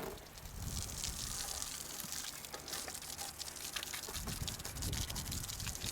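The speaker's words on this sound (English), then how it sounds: "Low pressure rinse, like I said." Water at low pressure rinses an interior towel inside a barrel, giving a steady, close hiss and splash that continues throughout without speech.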